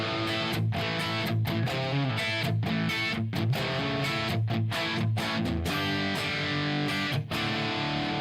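Overdriven electric guitar chugs through a hard-rocking riff, loud and close, with rhythmic chord stabs separated by short choked gaps and no voices over it.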